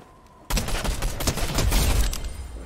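Loud, dense gunfire from a Fortnite match, with rapid overlapping shots erupting suddenly after a brief quiet lead-in and continuing as a sustained volley to the end.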